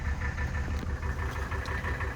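A 1984 Mercedes-Benz 300D W123 turbo diesel engine idles steadily with a low, continuous rumble and faint knocking clatter, close by and with no talking.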